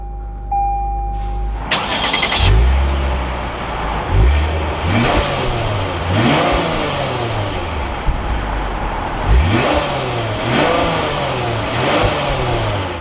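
A 2023 Lexus IS 350 F Sport cranks and fires after a push-button start, then revs repeatedly in sharp rising and falling blips over a steady idle, loud and close with no talking.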